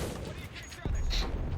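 Gunfire is traded in the video game Enlisted, with dull distant shots followed by a heavier, closer burst of firing over rumbling background noise.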